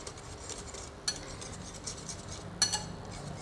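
Crushed red chilli being stirred into a mango chutney, faint clinks and scrapes of a spoon against a bowl, quiet and close.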